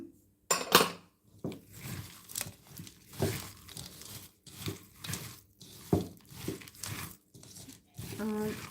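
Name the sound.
mixing jhal muri puffed rice with chanachur in a bowl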